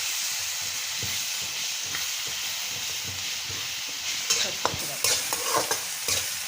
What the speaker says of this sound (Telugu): పచ్చి వాసన పోయేదాకా బాగా వేయించుకోవాలి.